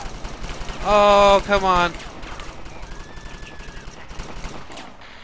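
Gunfire in Satellite Reign, a class-based strategy game, with a loud, rapid automatic burst lasting about a second, under a player's brief exclamation and quieter background game sounds.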